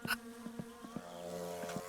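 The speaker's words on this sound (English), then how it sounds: "Oh, they're the most aggressive wasps ever." Wasps in the driving game My Summer Car buzz with a steady tonal drone, quiet but continuous, broken by a few short clicky pulses and no talking.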